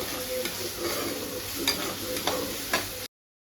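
Ginger garlic paste sizzles in hot oil while a spoon stirs it, a steady frying hiss with a few sharp scraping clicks against the pan, close and without talk.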